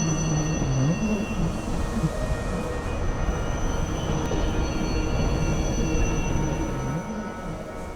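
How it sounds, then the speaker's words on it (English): Bernina Express train on the steep Rhaetian Railway in Switzerland, loud continuous metallic wheel squeal with wavering high tones over a heavy rumble of rolling wagons, sustained and close throughout. "With a sometimes deafening squeal, it masters the steepest section of the Rhaetian railway."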